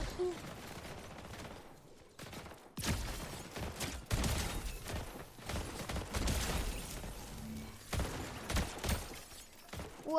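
Rapid bursts of gunfire from a weapon in a Fortnite match crackle in dense volleys of varying loudness, with brief quieter gaps between and faint talk in the background.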